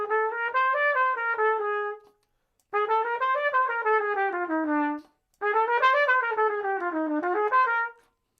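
A melodic instrument runs a bebop scale upward four steps from the flat seven, in three smooth phrases of connected notes with short pauses between them, heard alone and close.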